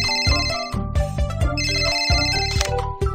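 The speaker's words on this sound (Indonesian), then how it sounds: "telepon berdering." An electronic phone ringtone plays a bright, repeating melodic pattern in a children's cartoon about a fire station, loud and close with steady rhythmic pulses and no talking.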